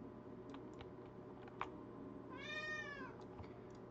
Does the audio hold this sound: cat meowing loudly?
yes